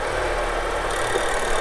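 Zeekr plug-in hybrid's 2-litre turbo four-cylinder engine running just after starting, a steady close idle drone with a faint rough knock and no speech.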